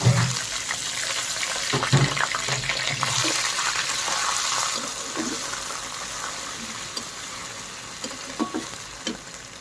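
A small splash of water hits a pan of browned onions and spices cooking for beef curry, bursting into a loud hiss and sizzle that slowly eases into a steadier, quieter frying with faint stirring scrapes and clinks.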